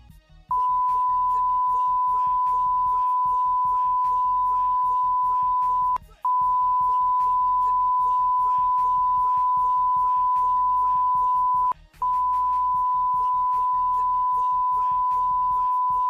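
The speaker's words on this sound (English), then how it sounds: "I had to bleep out a few words, and I don't want anybody to be bothered too much by that beeping noise." A censor bleep covers swear words in a rap track: one long, steady, pure electronic tone, broken by two short gaps, sits loud over a soft rhythmic beat.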